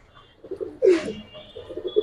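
Giribaz and coloring pigeons coo in soft, low, repeated phrases close by, with one louder burst of movement or flapping in the middle before the cooing resumes.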